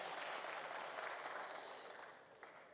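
An audience at a speech applauds, a dense, fairly faint patter of many hands clapping at once that tapers off toward the end.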